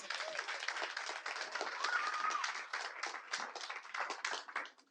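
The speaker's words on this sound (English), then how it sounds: "Let's give him another round of applause." Another round of applause for a youth presenter at an annual community event, a crowd clapping steadily at a distance for several seconds with a faint whoop, then trailing away.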